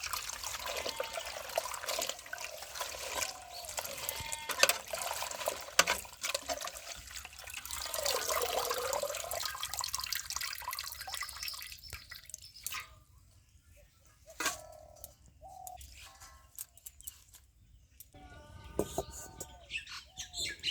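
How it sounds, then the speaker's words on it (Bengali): Thankuni leaves and small puti fish are rinsed under a running tap, water splashing and trickling steadily before breaking into intermittent drips and splashes, with birds chirping faintly nearby. "এবার কলের জলে ভালো করে ধুয়ে নিচ্ছি"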